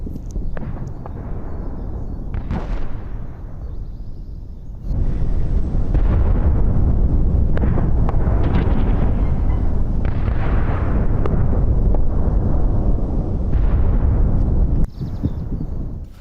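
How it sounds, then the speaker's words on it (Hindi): Loud, booming explosions and heavy rumbling from a Russian missile strike on a Ukrainian post in Melitopol, with a sharp blast partway through that swells into a sustained roar, then more bursts near the end. "मेलिटोपोल में यूक्रेनी पोस्ट पर मिसाइल हमला हुआ।"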